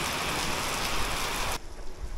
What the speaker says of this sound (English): It's absolutely lashing it down now.